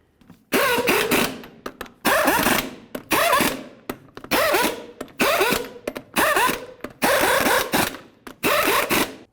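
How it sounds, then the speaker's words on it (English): A tool works the lug nuts on a 2001-2006 Silverado 2500 HD wheel with the truck on the ground, giving eight loud, rattling bursts of about a second each, separated by short pauses, close up and with no talking. "we can torque each of these lug nuts to 140 foot-pounds in a crisscross manner"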